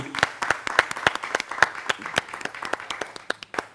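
Studio audience applause on a French talk show, a steady burst of dense clapping with sharp individual claps throughout, fairly close and loud, with a few voices faintly mixed in.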